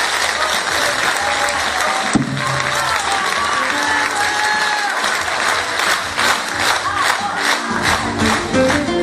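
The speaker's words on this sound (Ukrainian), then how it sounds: "Сьогодні є оплески." An audience in a concert hall applauds at a creative evening, dense sustained clapping with some cheering, while music with held tones plays underneath throughout.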